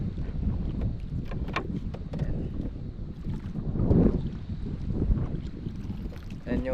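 Steady low rumble of a small fishing boat on open water near Mayon Volcano, with wind buffeting the microphone, fairly constant throughout with a few brief swells.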